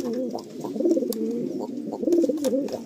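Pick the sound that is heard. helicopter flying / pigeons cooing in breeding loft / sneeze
pigeons cooing in breeding loft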